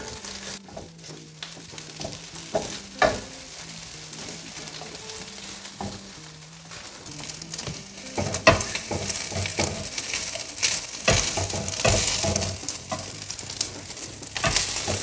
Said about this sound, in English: use the back of your spatula to push it down if you have any clumps in there